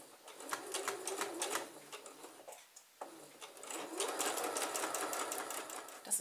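A sewing machine runs a plain straight-stitch seam on fabric for a thread catcher, in steady rapid bursts with one brief stop, while someone speaks quietly over it.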